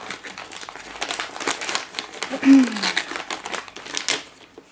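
Crinkling paper rustles in bursts as a parcel is unwrapped, with a person speaking briefly in German over the handling noise.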